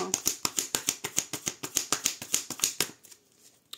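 A deck of tarot cards is cut and riffled, making a fast, even run of crisp card flicks for about three seconds, close by, then quiet handling.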